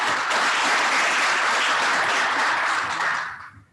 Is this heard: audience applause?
yes